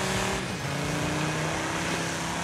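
Petrol rally car in the racing game Dirt 5, classic rally event, engine revving hard with a gear change early on, then a loud, continuous high-pitched drone close up.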